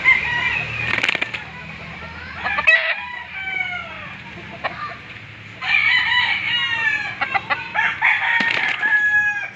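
A six-month-old white gamefowl stag crows and clucks nearby, with repeated harsh calls and a burst of wing flapping, mixed with other fowl in a farmyard.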